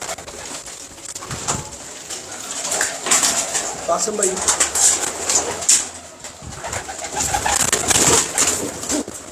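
Teddy pigeons coo in soft, repeated bursts at close range, mixed with rustling and shuffling from the birds, while someone speaks over them.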